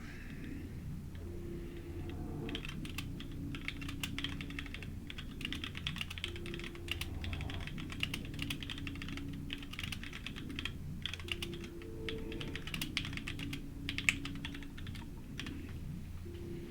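Rapid, uneven keystrokes clatter on a computer keyboard during an EVE Online session, with a low game hum and tones running underneath.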